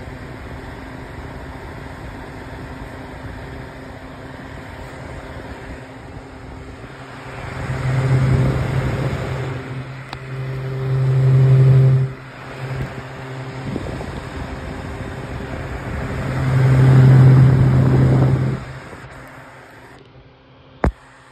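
A Holmes Blizzard Junior fan runs at high speed, giving a steady broadband airflow whoosh with a low hum that swells louder in several surges before cutting off near the end, with no talking.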